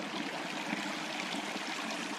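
A small stream at a water crossing near the South Fork Hoh River, Washington, rushes and trickles steadily nearby, a constant close-up babble of flowing water with no voices.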